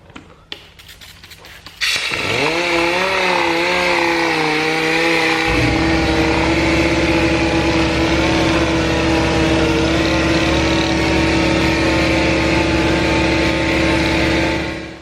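A few quick clicks, then a dual action sander spins up wet sanding car paint with 1500-grit, running with a loud, steady, buzzy whir that deepens partway through and continues close by.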